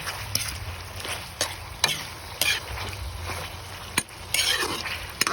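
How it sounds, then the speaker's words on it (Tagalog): Chicken pieces sauté and sizzle in a pan as a spoon stirs them with salt and pepper, a steady frying hiss broken by repeated scraping and clinking strokes, close up with no talking. "salt and pepper at haluin para magkaroon ng lasa habang ginigisa."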